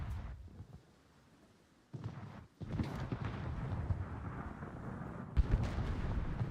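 Warship main guns in World of Warships booming in heavy, rumbling salvos, a first blast at the start, then louder overlapping volleys with lingering roar, no voices.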